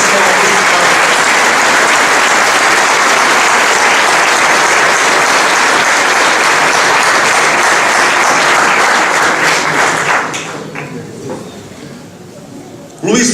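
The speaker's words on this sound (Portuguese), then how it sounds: "Palmas para o Sr. Augusto" An audience at a Portuguese parish council candidate announcement breaks into dense, sustained applause, loud and close for about ten seconds before it thins into scattered claps and fades.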